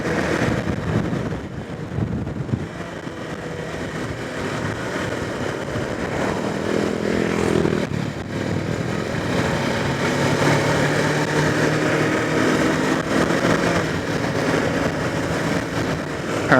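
A steady, droning motorcycle engine runs throughout, mixed with rushing wind noise, as if recorded while riding at a constant speed.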